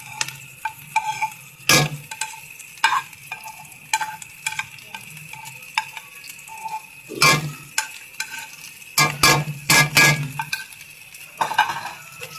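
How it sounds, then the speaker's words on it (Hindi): Turmeric roasting in hot oil for halwa: a soft frying hiss under intermittent stirring scrapes and occasional metallic clinks of a spoon against the pan, close and uneven in rhythm. "इसे अच्छे तरीके से ऐसे भूनना है जैसे कि हम कीमा वगैरह भूनते हैं ना"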